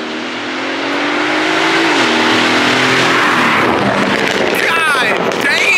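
A stage 1 tuned Mercedes CLS 550 sports car accelerates hard, its close, loud engine roar climbing in pitch and swelling into a sustained blast for several seconds.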